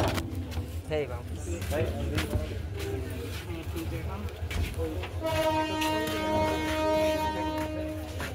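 A long passenger train pulls into a station and slows to a stop, a horn note sounding over a steady low rumble and clatter while a crowd of people talks throughout.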